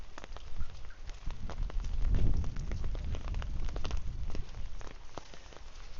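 Rain falls steadily around a morning walk at Bangwad Reservoir in Phuket, a dense patter of drops on surfaces, moderately near and continuous, with a brief swell in the middle.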